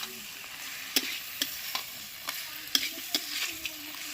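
Fish head frying in hot oil in a pan with a soft continuous sizzle, broken by a series of sharp spatula scrapes and taps as it is stirred and broken apart; no talking.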